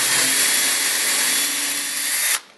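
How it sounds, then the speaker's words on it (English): A power drill bores a hole in wood, a loud, close, high-pitched whine held steady for about two seconds before cutting off sharply, with no talking. "if I'm just drilling a hole for a fuel line or something, it doesn't have to be as accurate"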